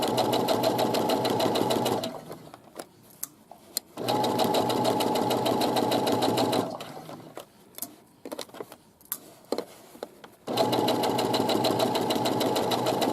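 A sewing machine stitches a side pocket in three loud, steady bursts of rapid whirring. Quiet pauses with small clicks separate the bursts.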